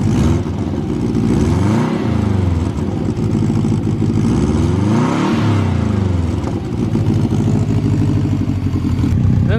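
An abandoned Subaru WRX engine runs just after its first start, loud and close, with a throbbing idle and a couple of rising and falling revs, and no talking.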